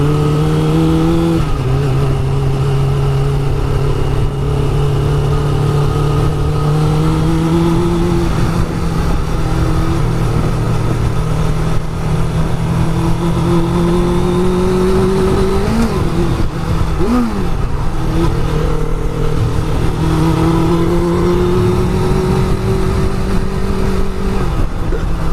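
A motorcycle on a test ride with a reported lack of power in the upper gears accelerates steadily. Its engine drone holds loud and close throughout, rising and falling in pitch through several gear changes, with wind noise over it.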